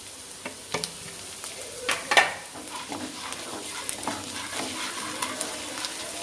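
Green chillies fry and sizzle in hot oil as turmeric powder goes in, a steady crackle broken by scattered stirring scrapes and clinks of a spoon against the pan.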